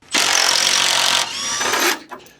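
A power drill whines loudly as it backs lag bolts out of old basement shelving, one sustained burst that shifts pitch midway before winding down and stopping.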